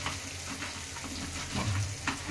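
Ridge gourd curry frying in a pan on the stove, a steady close sizzle with soft stirring scrapes and a few brief louder bursts.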